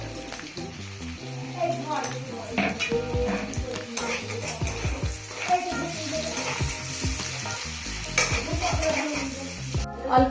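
Onion and garlic paste frying in a pan for a Bengali fish curry, with steady sizzling, scraping stirs and clinks of a spatula throughout, under background music and talk.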